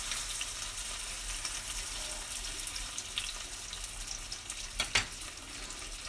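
Chicken and coriander brick pastry frying in a pan, a faint steady sizzle with a soft crackle, continuous and fairly quiet throughout.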